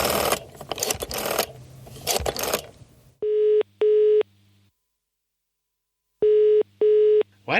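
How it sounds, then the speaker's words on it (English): A UK-style double-pulse telephone ringing tone, heard as two paired bursts of ring separated by a long silence, clear and fairly loud after a stretch of busy, noisy sound at the start. "Why does it sound like I'm using a phone in the UK?"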